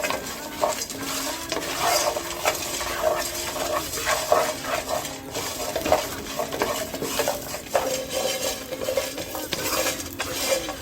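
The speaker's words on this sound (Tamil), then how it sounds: "நல்லா மீடியம் ஃப்ளேமில் வச்சுக்கிட்டு இதை நல்லா ஃப்ரை பண்ணுங்கள்." Baby corn and prawns fry in a pan over a medium flame, a steady sizzle under repeated clinks and scrapes of a utensil against the pan.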